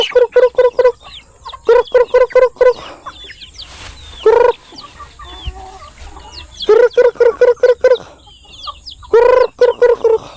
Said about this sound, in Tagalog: Yan, naglalapit ang ating mga manok.